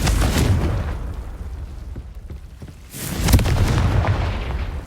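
Two deep explosive blasts from the Confringo spell in the video game Hogwarts Legacy, each a loud boom with a rumbling, crackling tail, spaced a few seconds apart.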